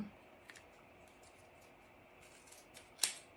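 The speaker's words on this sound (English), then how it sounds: "Let's cut off these long tails first. And I'm going to put my scissors in that." Quiet room with a few soft snips of scissors cutting yarn tails, ending in one sharp, louder scissor cut near the end.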